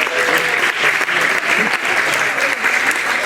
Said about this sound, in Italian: Un applauso per Jacqueline.